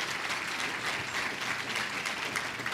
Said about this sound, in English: give an round of applause to our restaurants for doing this